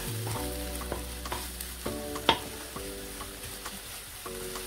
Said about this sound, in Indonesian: Lalu kita masukkan terinya